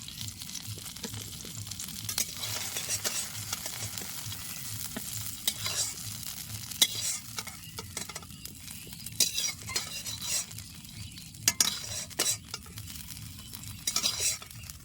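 Eggplant slices fry in hilsa fish oil with a continuous close sizzle, broken by regular stirring scrapes and occasional clinks of a utensil against the pan throughout.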